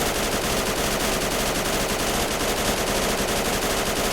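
An AR-180 carbine in Fallout 4 fires nonstop at a very rapid rate, a dense, loud, unbroken stream of shots filling the whole stretch, with no speech.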